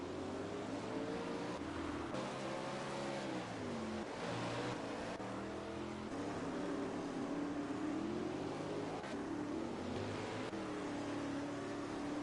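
World of Outlaws sprint cars race at Willow Creek, a steady droning roar of several engines with wavering pitch as cars circle the track, heard at a moderate, continuous level throughout.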